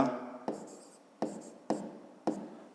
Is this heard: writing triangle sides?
yes